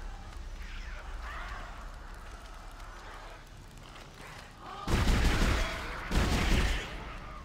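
Gunfire in the sci-fi survival horror game Dead Space (2008): two loud broadband bursts ring out near the end, each lasting about a second, over a low rumbling game ambience.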